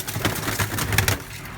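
Pigeons kept for sale coo softly in a short, close burst of low throaty calls, with no talk over them.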